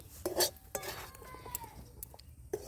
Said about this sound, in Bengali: এভাবে দিয়ে খুব সুন্দর করে নেড়ে চেড়ে নিচ্ছি